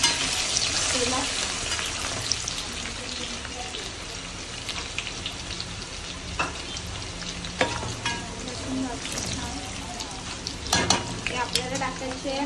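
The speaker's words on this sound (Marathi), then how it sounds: "लसूण याच्यावर भाजते मी तेलात." Garlic frying in hot oil in a home kitchen pan for a black crab curry, a continuous soft crackling sizzle with occasional sharper pops and spatters, steady and close throughout.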